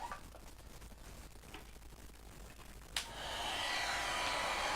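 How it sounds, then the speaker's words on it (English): A hair dryer blows on a handmade snowman snow globe, switching on partway through with a click and then holding a steady, close, broadband rushing roar. "I've got to blow dry this to do my next step"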